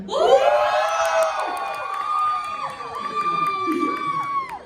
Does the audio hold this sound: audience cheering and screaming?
yes